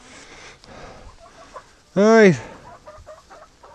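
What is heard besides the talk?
chickens clucking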